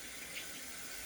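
Tap water runs steadily over freshly chopped food being rinsed in a kitchen sink, a soft continuous broadband hiss with no talk.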